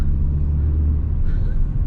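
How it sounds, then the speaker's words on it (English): Peugeot 3008 from 2021 revving, its artificial engine note played through the cabin speakers: a loud, steady low rumble that swells slightly, with a faint rising tone near the end. "a more aggressive engine note whenever you rev up the engine"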